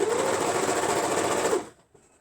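Short pants are stitched on a sewing machine in a brief, close, steady burst of motor whir and needle chatter that cuts off abruptly, followed by a faint click in near silence.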